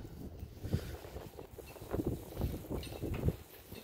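Strong wind gusting around calf hutches on a farm, a rough roaring rush with buffeting against the microphone that swells and fades, no voices heard.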